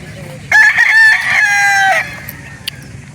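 A rooster crows once at a chicken market in Calauan, Laguna, a loud, near call of about a second and a half rising then holding, set against a quiet background of faint chatter.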